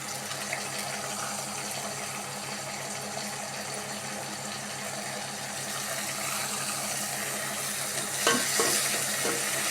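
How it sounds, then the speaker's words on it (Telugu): Tomatoes sizzling in hot oil with curry leaves in a pan for okra curry, stirred with a spoon in a steady scraping rhythm; a louder clatter of the spoon near the end. "ఇప్పుడు టమోటాలు వేసుకుందాము."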